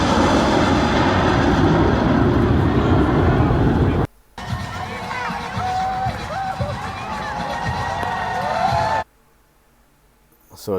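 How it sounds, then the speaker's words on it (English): B-2 stealth bomber flying out of Whiteman Air Force Base, a loud, continuous roar with crowd noise and cheering mixed in, cutting off abruptly twice as the recording jumps between segments. "A stealth bomber from Whiteman Air Force"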